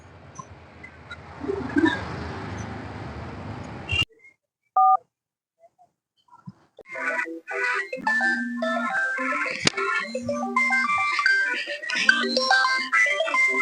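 A phone call goes unanswered: a few dialing beeps come first, then after a pause a melodic ringback tune plays on and on, close and clear, with no voice picking up.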